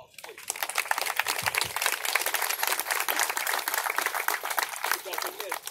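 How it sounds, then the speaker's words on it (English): Crowd at a victims of crime awareness walk in Mobile, Alabama, applauding for the families, a sharp burst of clapping rising quickly and holding steady outdoors for several seconds. "let's give them a round of applause, please"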